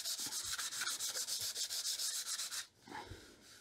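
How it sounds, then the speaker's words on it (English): Light hand sanding along the grain of a wood surface, a rapid steady rhythm of about a dozen close, even back-and-forth rubbing strokes that stop abruptly near the end, leaving a quieter scuff. "I'm just going to go with the grain, and it's actually just a very light sanding here"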